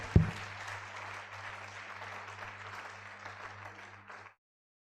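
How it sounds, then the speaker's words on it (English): Audience applause fills a medical symposium hall on emergency medicine, a steady dense patter of many hands that holds evenly for about four seconds and then stops abruptly. "Let's give a round of applause."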